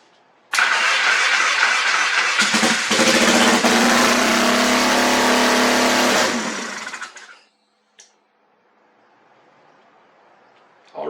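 A Yamaha XS650 motorcycle engine cranks and catches, running loud and steady for several seconds before winding down and cutting off, followed by quiet with a few small knocks.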